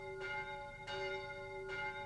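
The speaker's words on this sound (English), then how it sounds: "the bells of Notre Dame sounded lovelier" The church bells of Notre Dame ring three evenly spaced, resonant strikes, each with a long humming tail of sustained tones, clear and fairly loud.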